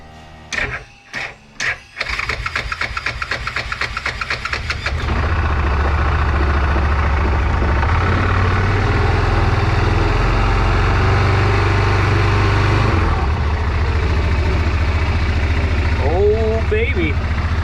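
A Yamaha Rhino 660 engine is cranked several times with choppy starter bursts. It then catches and settles into a steady, loud, low idle that runs on, with a brief voice near the end.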